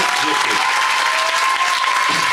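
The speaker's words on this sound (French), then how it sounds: "on peut l'applaudir très fort" An audience claps loudly and continuously at a local event, dense steady applause with a voice briefly audible over it.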